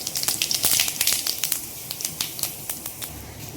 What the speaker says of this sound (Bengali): তেলটা গরম হয়ে গেছে জিরে ফোড়ন দিয়ে দেবো